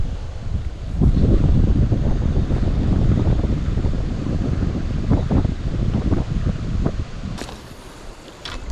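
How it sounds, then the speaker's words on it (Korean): Strong wind gusts roar steadily across the microphone beside river rapids while fishing for mandarin fish, a dense, loud buffeting that swells after the first second and eases slightly near the end. "바람이 세네요."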